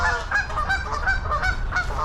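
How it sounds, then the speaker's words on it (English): Canada geese honking repeatedly at a lakeside park, a steady run of loud nasal calls overlapping one another at fairly close range, with no speech. "Got some mallards, Canadian geese coming."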